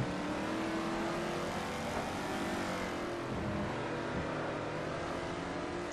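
Historic Trans Am race cars at Laguna Seca in a racing video game, with a steady engine roar and revving sustained throughout as cars run through the corkscrew.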